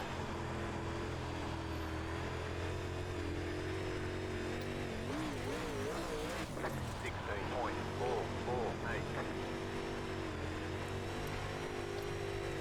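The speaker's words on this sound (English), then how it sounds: "I need to keep the revs up down here on the bottom" A UMP modified race car in iRacing's dirt racing at Lernerville Speedway holds a loud, continuous engine drone with rising and falling revs mid-clip, steady throughout, with no voice over it.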